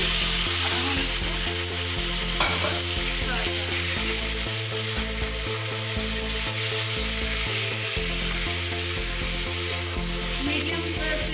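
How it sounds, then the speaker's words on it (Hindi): Chicken fries in two tablespoons of oil over a medium flame for butter chicken, giving a loud continuous sizzle with faint stirring, under steady rhythmic background music. "मीडियम फ्लेम पे इसको फ्राई करेंगे"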